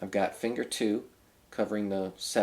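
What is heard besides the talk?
No everyday noises stand out.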